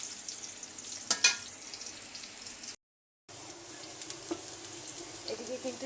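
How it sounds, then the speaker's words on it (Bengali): Vegetables sautéing in a pan on a stove, a continuous sizzle broken by a few sharp scraping stirs, with a brief dropout midway before the frying resumes steadily. "এখানে হচ্ছে সবজিটা কষাবো।"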